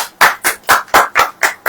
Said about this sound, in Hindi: ताली नहीं बजाएंगे